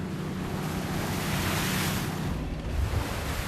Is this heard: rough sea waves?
yes